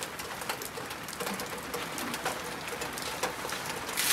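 Rain falls steadily with scattered sharp drips and taps, while birds coo faintly in the background.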